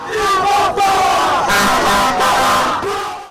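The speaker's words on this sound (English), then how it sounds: "Kyagulanyi's neighbors, including children, youth and the elderly, camped at the gate of his residence in Magere Singh's Down, chanting the slogans" A large crowd of National Unity Platform supporters, children, youth and elderly neighbours gathered at a residence gate, chants campaign slogans in loud, continuous unison with rising and falling shouts throughout.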